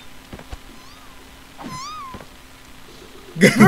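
A cat in the Scott Pilgrim video game gives two clear, rising-and-falling meows close up, followed by a brief louder burst of sound at the end.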